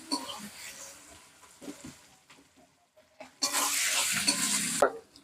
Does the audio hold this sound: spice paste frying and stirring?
yes